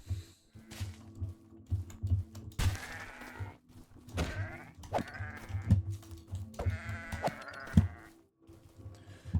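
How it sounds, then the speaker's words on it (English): Sheep in a fantasy video game bleating repeatedly, several distinct wavering calls over a low steady background hum, fairly close and clear. "I should get these sheep, actually."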